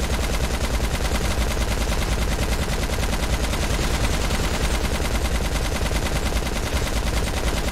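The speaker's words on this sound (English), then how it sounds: "Look at all my gunshots." Nonstop rapid gunfire from a video game shootout in a Hollywood setting, dense automatic bursts layered into a loud, unbroken barrage for the whole stretch with no talk.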